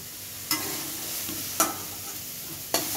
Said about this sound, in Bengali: সোয়াবিনটা ভাজা হয়ে গেছে